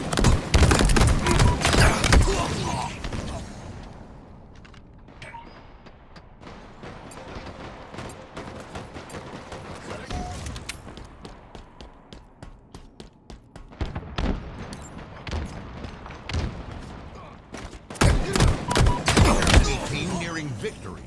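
Gunfire in a Halo match, bursts of shots loud at the start and again near the end, with quieter stretches of scattered shooting between and game voices over it.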